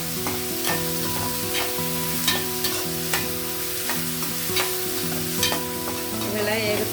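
Capsicum and green chilies frying in a pan for egg rice, a continuous sizzle with a spatula stirring and scraping in regular strokes throughout, no voices.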